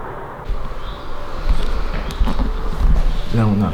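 Wasps buzz inside a room of an abandoned manor, a continuous droning hum that swells and fades as insects pass near, with a voice speaking briefly at the end.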